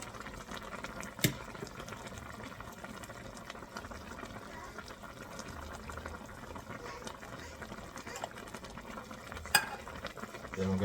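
Tomato sauce being stirred into pork afritada in a pot, a soft continuous scraping and bubbling with a couple of sharp utensil clinks against the pan, quiet and close.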